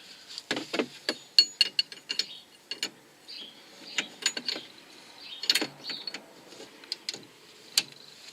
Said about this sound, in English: tighten the lock nut.